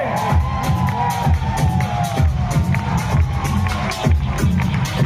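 Loud crowd applause and cheering for a new diamond-rank member at an event, dense clapping continuing throughout with voices in the crowd.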